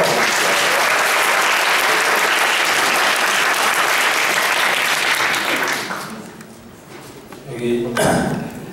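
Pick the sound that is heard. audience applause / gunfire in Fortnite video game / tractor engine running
audience applause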